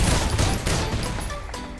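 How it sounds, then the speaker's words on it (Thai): Rapid bursts of fire erupt in a video game, a continuous dense volley of shots with a steady loud roar and no pauses across the short stretch. "ยิงไฟแบบรัวๆ"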